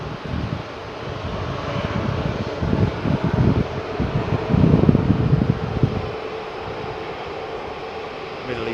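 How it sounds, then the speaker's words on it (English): A Middle East Airlines Neo at Heathrow Airport gives a rumbling jet engine roar that swells and fades over several seconds, with wind noise on the microphone underneath. "Middle East Airlines Neo."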